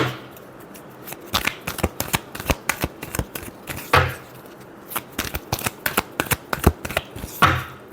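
Tarot cards being shuffled in a quick run of crisp riffling bursts and soft slaps, close and alone, with a couple of louder snaps near the middle and end.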